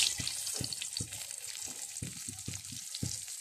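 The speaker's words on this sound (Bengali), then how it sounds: "ডিমগুলোকে আমি সুন্দর করে একটু ভেজে নিব" Eggs fry in hot oil seasoned with turmeric and salt in a kadai, giving a steady bright sizzle broken by soft periodic stirring knocks, close and with no talking.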